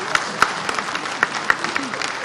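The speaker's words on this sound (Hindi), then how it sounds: "ताली बजाओ तो जरा ढंग से बजाओ" Audience applause at a Swachhata Seva Samman 2020 awards ceremony, sparse scattered claps with a few sharper hits, medium distance, heard through a steady background crowd hum.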